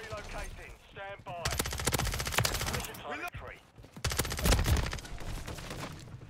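Rapid bursts of gunfire in Call of Duty MW3, loud repeated volleys in two main stretches with brief pauses and other combat noise between.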